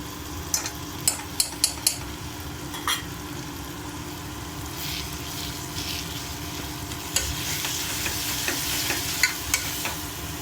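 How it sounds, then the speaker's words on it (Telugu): Ginger garlic paste fries in a pan with turmeric, a faint continuous sizzle broken by sharp clinks and scrapes of a spoon stirring against the metal. "ఒక నిమిషం ఇది కలుపుకుందామండి, పచ్చివాసన పోయే వరకు"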